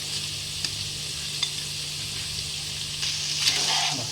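Broken wheat (dalia) stirred through a frying pan for a pulao, with a steady sizzle under soft scraping strokes and a few brief clinks, close and moderately loud, no talking.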